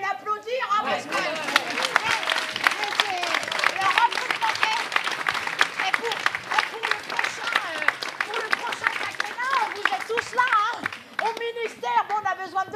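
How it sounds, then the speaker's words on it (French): Audience applause at a French conference workshop on community policing, a lively mix of clapping and crowd chatter, with a voice talking over it near the start and again toward the end. "Vous pouvez l'applaudir, hein"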